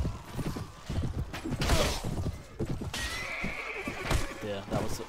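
A horse neighs and whinnies amid clattering hooves and mechanical creaks during a cavalry battle siege in the strategy game Clash of Kings, busy layered game audio with someone talking over it.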